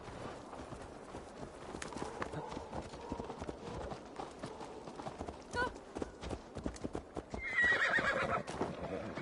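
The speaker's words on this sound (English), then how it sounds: "Your horse is a little unsettled, but safe." A horse whinnies loudly near the end over steady clip-clopping hooves, with a voice talking underneath throughout.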